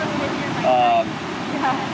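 Ocean surf rushes and washes steadily near a surfboarding spot in summertime, a continuous broadband wash with brief swells, while people talk briefly over it.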